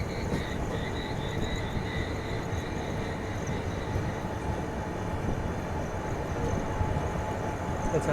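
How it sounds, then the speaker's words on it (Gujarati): An empty electric locomotive passes along an Indian railway main line, heard as a steady, continuous rumble and rolling clatter with no breaks and no speech. "ખાલી ઇલેક્ટ્રિક લોકોમોટિવ વચ્ચે છે"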